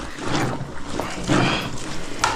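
A riding jacket balaclava is washed by hand in water, giving repeated soft sloshing and splashing as the cloth is rubbed and squeezed, close and fairly loud with no talk.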